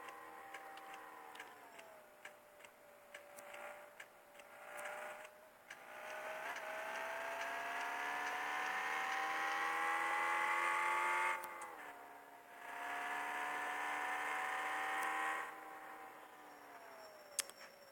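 Cars drive past in a public transport simulator game, a steady tonal engine drone that rises and falls in pitch as vehicles come and go, with faint ticking throughout.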